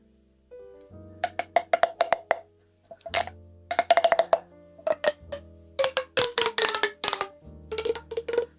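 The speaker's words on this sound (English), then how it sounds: "it's technically a stim tube, but I bought it for ASMR" A stretchy stim tube gives rapid runs of hollow, rubbery pops and plops, close and crisp, in clustered bursts with short pauses and no talking.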